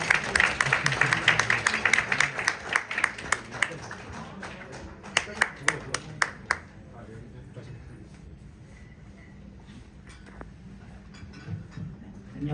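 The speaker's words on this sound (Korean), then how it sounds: "박수로 맞이해 주시기 바랍니다." Clapping from an audience welcoming a presenter at a business customer forum, dense at first, then thinning to scattered individual claps, with a low background hum and faint room noise as it dies away.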